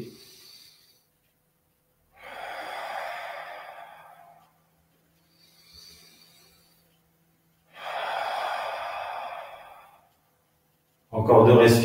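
Slow guided deep breathing during an end-of-day relaxation session, two long airy inhales or exhales several seconds each separated by quiet pauses, with fainter breaths between and a short voiced sound at the end.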